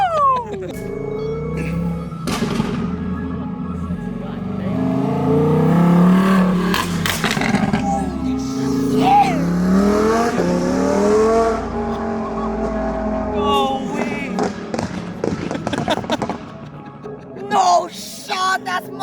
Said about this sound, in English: Loudest Huracan in California